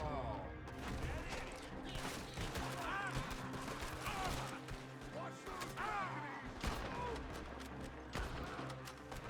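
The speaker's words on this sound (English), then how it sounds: "I'm shooting a barrel" Gunfire in a video game as a player shoots at a barrel, with rapid, irregular shots and clatter over busy game effects and background music.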